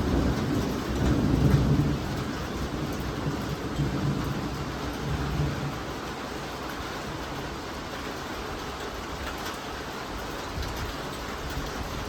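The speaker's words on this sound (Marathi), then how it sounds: "मम्मा आणि वो पाऊस येतोय." Steady heavy rain pours down through the whole stretch, a dense even wash of falling water, with thunder-like low rumbles near the start; no one talks.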